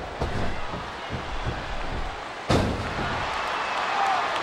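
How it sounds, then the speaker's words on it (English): A knee strike in the wrestling game SvR09 lands as a heavy thud around the midpoint, cutting through steady crowd roar and muffled impacts, loud and close. "What a vicious shot with the knee."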